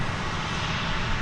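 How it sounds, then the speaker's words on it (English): American Airlines Flight 2379, an airliner lifting off for San Francisco from DFW Airport, makes a broad, steady engine roar heard at a distance with no talking. "American Flight 2379 lifts off for San Francisco in the background there"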